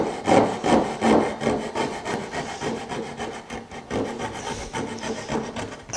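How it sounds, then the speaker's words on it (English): A coping saw cutting across wood for a hanging cabinet, close rhythmic rasping strokes repeating steadily back and forth for the whole stretch, with no voices. "I'll just use the coping saw here."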